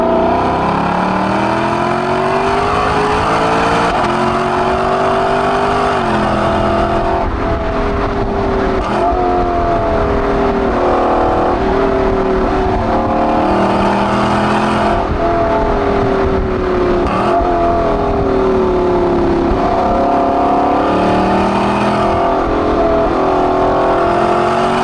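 A Lexus LC Convertible engine driven hard, revving up and down in repeated surges with a loud, continuous drone and shifting pitch, heard from on board with no talking.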